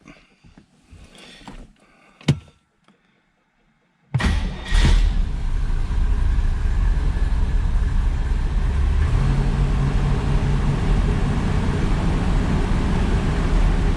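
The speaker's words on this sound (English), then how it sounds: "Here's a cold start on our 67 Corvette Coupe, L79 air-conditioned car." A 1967 Corvette coupe with the L79 engine and four-speed cold-starting after a few quiet clicks, catching abruptly and settling into a loud, steady high idle that holds close and continuous.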